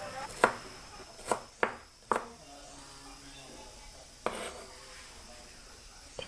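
A knife coarsely slicing smashed garlic cloves on a cutting board, with several sharp, separate chopping knocks spaced irregularly, fairly close and clear against a quiet background.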